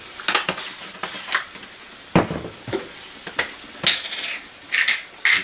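Butter sizzling in a hot front pan alongside garlic-seasoned green beans, heard as a run of short crackling bursts and spits with quiet gaps between them, close and fairly loud.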